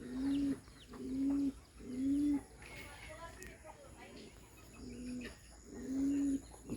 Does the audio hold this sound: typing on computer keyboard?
no